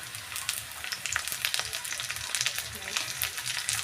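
Onions and green chillies fry in a pan with a soft, continuous crackling sizzle, punctuated by light stirring scrapes, fairly quiet and close.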